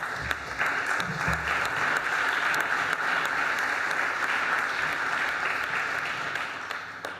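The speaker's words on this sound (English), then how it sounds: "The applause was premature" A conference audience at the Transatlantic Summit in Budapest applauds a speech, sustained dense clapping from a large hall holding steady before tapering slightly at the end.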